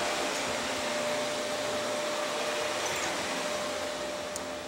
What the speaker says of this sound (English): And how much energy does a vacuum use?